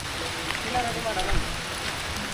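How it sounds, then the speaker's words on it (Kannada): Steady rain falls outdoors near a waterfall trek in Karnataka, a dense hiss of drops on surfaces filling the whole stretch while voices talk over it. "ಮಳೆ ಬಂತು ಬ್ರೋ, ಸಮವಸ್ತ್ರ ಇಲ್ಲ ನಮ್ಮ ಹತ್ರ"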